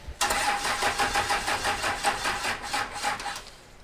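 Diesel engine of the Roadkill ramp truck cranking over in rapid rhythmic chugs for about three seconds, close and fairly loud, then catching and settling.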